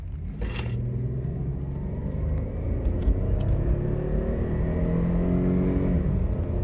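A car with no working brakes accelerates along a short road to 45 mph, its engine rumbling loud and close as rising harmonic tones climb steadily through the gears without any talk.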